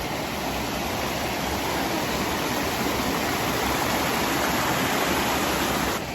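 A mountain waterfall in Savoie pours in a dense, unbroken rush of white water, loud and close, holding steady from start to finish with no voices.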